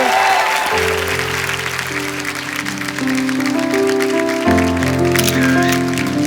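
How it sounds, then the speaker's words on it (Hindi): Studio audience applause on The Kapil Sharma Show, a bright clapping wash layered over steady music tones, loud and continuous throughout. "जोरदार तालियां एक बार हो जाए।"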